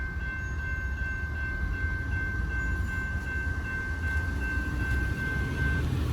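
A Norfolk Southern freight train rolls past on wet rails in the rain, a steady rumbling drone with a faint high tone held through it, moderately distant and continuous.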